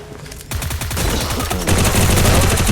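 Rapid bursts of automatic gunfire in a mobile shooter game come close and loud, firing continuously and growing more intense partway through.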